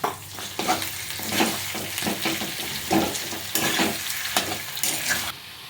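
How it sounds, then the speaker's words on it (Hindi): Green peas and potatoes are tossed and stirred in a hot pan, a continuous sizzle punctuated by rhythmic scraping strokes of the spoon, close and steady until the sound cuts off near the end. "सारे मटर को भी डाल दीजिए और अब इसे मिक्स कर देते हैं"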